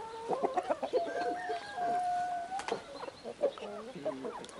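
Roosters cluck and call close by, including a scrappy speckled bird that attacks other cocks, with short clucks and one drawn-out crowing note in a busy farmyard.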